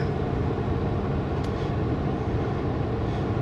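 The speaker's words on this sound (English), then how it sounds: "Oh look, there's an oncoming train on this side too" An oncoming freight train hauling car carriers rumbles past steadily, a continuous loud low roar of wheels and cars filling the whole stretch.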